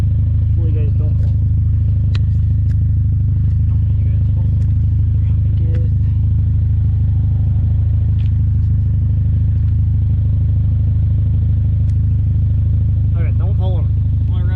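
A third-generation Honda Prelude fitted with a homemade valved turbo muffler idles steadily, giving a loud, constant low drone with a few faint clicks and scrapes over it.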